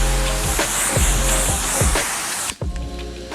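A sprayer mists cleaning chemical onto house brick to lift clay stains, a steady close hiss running for about two and a half seconds before cutting off abruptly into quiet.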